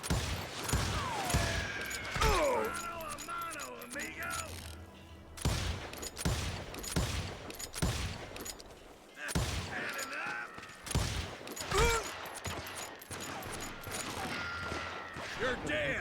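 Gunfire in the Western shooter Call of Juarez Gunslinger rings out in loud, repeated shots and volleys, mixed with game music and a character's voice talking and shouting.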